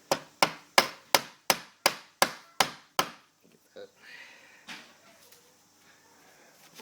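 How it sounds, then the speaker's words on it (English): Sharp, loud hammer blows on a glue-coated wooden plug being driven into a hole during a door latch repair: nine evenly spaced taps in quick rhythm, then a few softer knocks and a brief spoken word. "Take our hammer."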